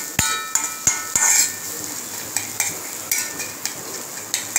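Cooked green gram dal being mixed into ghee in a kadai for red rice kozhukattai filling, with a few sharp metal spoon clinks against the pan over a soft background sizzle.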